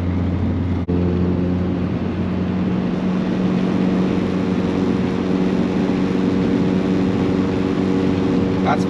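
Steady low exhaust drone inside a car with the windows closed, running in sport gear at 3000 RPM, a constant droning hum that fills the cabin throughout without any talking.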